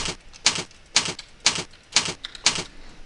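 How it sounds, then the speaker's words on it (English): Fingers type on a computer keyboard in a steady rhythm of sharp, close clicks, about two keystrokes per second, with quiet gaps between them and no talk. "And all I did was start typing on the keyboard."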